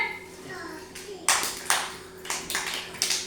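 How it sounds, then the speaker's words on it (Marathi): Young children in an anganwadi classroom clap in a few sharp, uneven bursts, with a teacher's voice and kids talking before and between the claps. "राधिकासाठी टाळी वाजवला रे"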